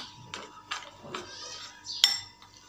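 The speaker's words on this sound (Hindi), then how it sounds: "अब इसको हम मिक्स करते जाएंगे।" Egg being mixed into gram flour batter for onion rings in a bowl, with a few soft scraping strokes and a single sharper clink of utensil against the bowl, no talking.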